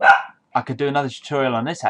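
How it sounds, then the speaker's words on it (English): In an indoor room, a dog lets out a quick bark at the start, followed by someone talking close to the mic. "Sorry about the dog, by the way."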